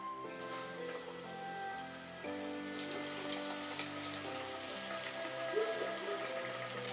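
Wafu karaage, Japanese-style fried chicken, crackles steadily as it fries in hot oil, a continuous rain-like patter of bubbling under prominent background music.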